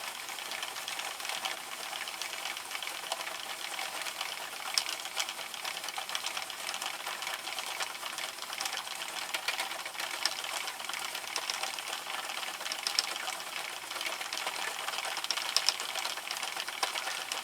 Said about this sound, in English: Now we're just going to crank a tube.